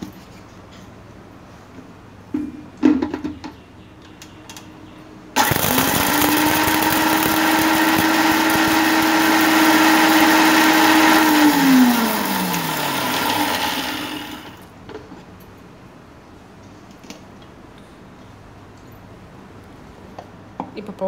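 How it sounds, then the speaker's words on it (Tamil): A kitchen mixer grinder grinds roasted pepper, cumin and fennel into a coarse powder: a loud whirring motor runs steadily for about nine seconds, then winds down, with quiet handling noises before and after. "கொஞ்சம் மிக்சரில் போட்டு கோஸ் பவுடராக அரைச்சிக்கிறேன்"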